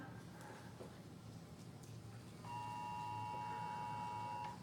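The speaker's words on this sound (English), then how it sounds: "So that's the sound of the Amber Alert" Faint background noise, then the Amber Alert emergency tone starts partway through and holds steadily, a harsh buzzing pitch with harmonics.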